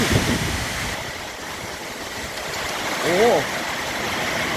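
A heavy rainstorm with strong wind, thunder and hail makes a steady, loud broadband roar of rain and gusting wind. A voice briefly cuts through the noise partway along.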